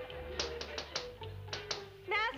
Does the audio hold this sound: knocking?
yes